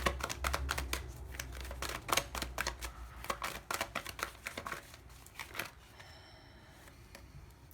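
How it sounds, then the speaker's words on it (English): Radiant Rider-Waite tarot cards being shuffled close up, a rapid run of crisp riffling and slapping card clicks that thin out into scattered taps toward the end, with no talking. "One more shuffle, guys. I'm feeling one more shuffle."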